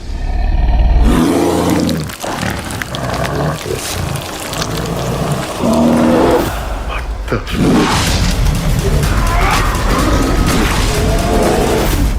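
A werewolf beast roars in a horror film trailer for The Amityville Moon, loud guttural bellows sitting inside a dense, booming trailer mix of effects and music.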